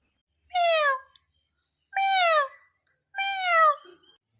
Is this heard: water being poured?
no